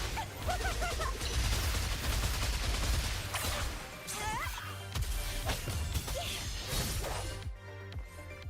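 Explosions and smashing combat effects in the video game Wuthering Waves form a dense, loud, continuous burst of impacts and crackling blasts, with voices and music mixed in.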